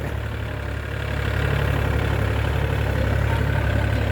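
A Thai-built high-lift tractor climbs a steep slope, its engine a steady low drone that grows louder and heavier after the first second and holds there without voices.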